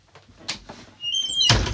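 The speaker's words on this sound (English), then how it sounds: "I have to close the door because I have a wild dog." A bedroom door is pushed shut, a couple of soft knocks and handle sounds followed by a louder thud and latch click with a brief squeak, close by and with no one talking.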